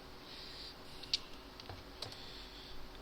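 Typing of C# code on a computer keyboard, a faint run of soft, irregular key clicks with one sharper tap, close by and without talk.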